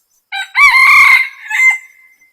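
A single rooster crows loudly and close by, with a short opening note followed by a long drawn-out call that trails off, heard alone.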